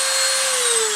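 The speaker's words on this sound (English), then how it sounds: "the first thing I'm going to do is drill out these 4 holes" A power drill bores holes for a homemade silverware-strainer gas stove, a close, loud, steady high-pitched whine with a gently falling motor tone, no voices.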